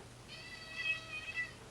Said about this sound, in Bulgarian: Каква тази твоята котка е,